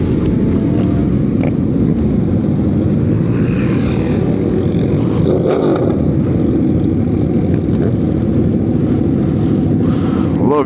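A car exhaust revs loud and near at a gas station takeover, a steady deep roar with rising and falling swells, other engines blending into the continuous din.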